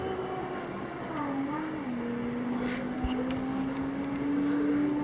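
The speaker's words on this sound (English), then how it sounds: "they go down by a hydraulic pump" A hydraulic pump lowers unloaded shop table lifts with a steady, fairly quiet motorized drone and a sustained whining tone that shifts slightly in pitch, with faint clicks and knocks along the way.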